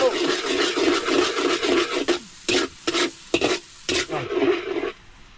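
Onions sautéing in a hot pan, with a steady sizzle broken by bursts of spatula scraping and stirring that stop near the end, close and fairly loud with no speech.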